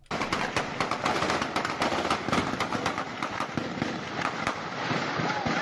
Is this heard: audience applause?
no